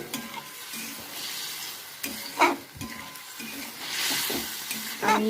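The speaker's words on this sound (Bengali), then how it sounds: "আর পনিরগুলোকে কষতে থাকবো।" Paneer and potato cubes being sautéed in spices in a pan, with a steady sizzle broken by scraping stirs of a spoon at regular intervals, close and moderately loud.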